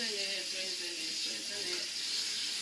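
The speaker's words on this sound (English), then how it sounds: "I could have used my hand to wash the rice, but for the purposes of hygiene, I'm just using the sieve" Water runs steadily over rice held in a sieve, giving a continuous close hiss and splash while a voice speaks faintly underneath.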